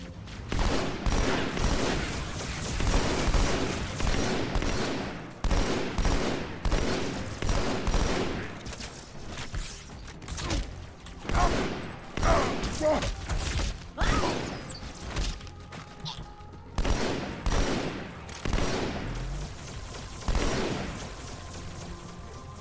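Rapid volleys of battle rifle fire from a Halo video game battle, loud dense bursts of shots repeating in quick clusters throughout, with thuds and mechanical clatter between them.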